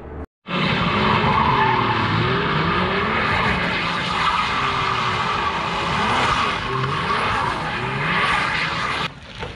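A drifting car skids with loud, continuous tire squeal and engine roar at a drift lesson session, the screech sweeping up and down nearly throughout, close and unbroken after a brief gap at the start.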